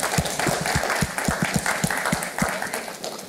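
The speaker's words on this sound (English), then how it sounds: "let's give another round of applause here for Brent." An audience at a talk on turning carbon into concrete applauds with a brisk run of claps, close and fairly loud, lasting a few seconds without fading.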